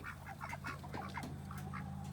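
Several ducks quack close together in quick, overlapping calls over a steady low hum.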